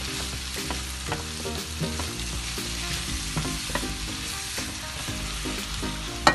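Garlic and minced meat fry in a karahi for qeema karahi. The sizzle is steady and moderately loud, broken by repeated spatula stirs and scrapes, with no talking.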